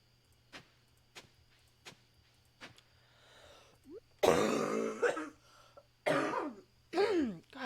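Several short throat clears in a row followed by a few louder, harsher coughs, close up and otherwise quiet, with a faint steady hum underneath.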